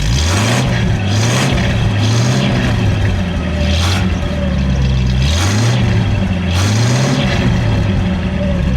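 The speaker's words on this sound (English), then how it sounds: "Go ahead, give it a rev." The 359 cubic-inch straight-eight engine of a red 1954 Packard Convertible is revved repeatedly. Each rev climbs and falls in a steady rhythm over a loud, close, continuous engine rumble.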